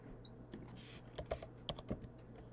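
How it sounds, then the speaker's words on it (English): Computer keyboard typing comes as a handful of quick, irregular key clicks, fairly close but soft, with a brief hiss of noise before them and no talk. "I literally got it before I even finished typing it."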